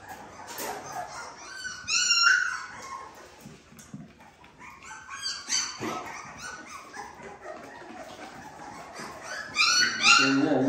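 Young puppies around three and a half weeks old and their mother dog whimper and whine in high, thin cries, with scattered soft yelps spread through the clip and a louder burst near the end, amid quiet background noise.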